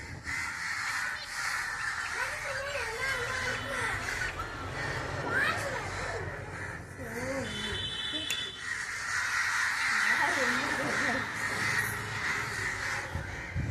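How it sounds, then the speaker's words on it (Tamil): Crows caw repeatedly from a tree, their harsh calls rising over a steady background hum while people talk nearby. "காக்கா அதை விட்டு போகவே போகாது"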